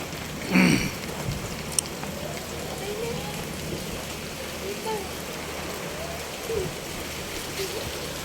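Steady rain pours onto a flooded road, a dense continuous hiss with splashing texture, close and even throughout, with a brief louder splash near the start.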